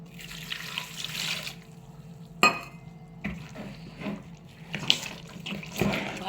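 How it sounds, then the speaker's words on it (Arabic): A cup of water poured over raw chicken pieces coated in flour, lemon and salt: splashing and trickling water in bursts, with a brief sharp clatter partway through, close and without talk. "هنحط بقى عليهم كده كوبايه ميه"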